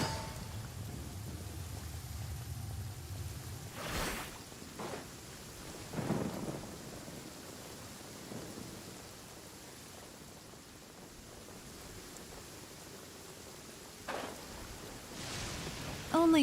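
Video game storm with steady hissing rain and several rumbling thunder claps rolling in at intervals, the loudest near the start and middle; faint throughout with no talking.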